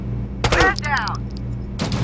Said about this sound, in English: Getting that nice rat-a-tat sound before an enemy drops